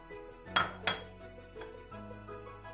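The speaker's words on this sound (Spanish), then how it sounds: "Mezclamos ahora la harina" Utensils clink against a bowl while flour is mixed for a chocolate coulant, two sharp close knocks early on and then softer taps and scraping, with no talk.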